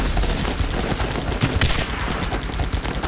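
Dense video game gunfire in a battle, with overlapping rapid shots and machine-gun bursts sounding continuously and loudly throughout, no talking.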